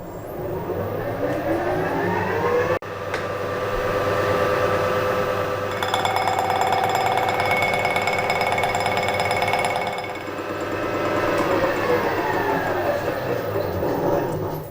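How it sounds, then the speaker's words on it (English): A milling cutter takes a light cut along the top of a workpiece clamped to a Vevor HS225 tilting milling table, giving a steady loud whine and rumble with a brighter, ringing stretch in the middle. "I'm going to take a light cut to start with and just see how well it cuts."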